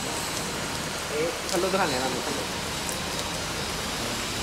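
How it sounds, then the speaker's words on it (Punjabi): Heavy rain pours steadily as a dense, even hiss during a rainy-season day, with a short stretch of nearby talk partway through. "ਪੂਰੀ ਜ਼ੋਰਾਂ ਸ਼ੋਰਾਂ ਨਾਲ ਬਾਰਿਸ਼ ਪੈ ਰਹੀ ਹੈ।"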